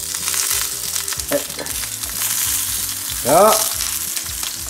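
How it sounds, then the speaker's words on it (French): Zucchini sizzle and crackle in a hot frying pan as they are turned, a steady bright hiss with soft clatter of the pieces being moved, and a brief voice near the end. "Je suis en train de retourner les courgettes."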